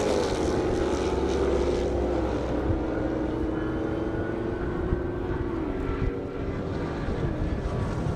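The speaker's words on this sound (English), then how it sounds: "Couple nice looking Mopars going down the airstrip out here in Marion, Indiana." Mopar muscle cars racing down an airstrip in Marion, Indiana, during a half-mile top-speed event, a steady loud engine drone with rising and shifting tones held throughout, heard from a distance with no talking.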